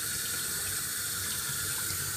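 Water pours continuously while BMW headlights are wet-sanded during a restoration. It makes a steady, even hiss of running water throughout, close and alone, with no talk.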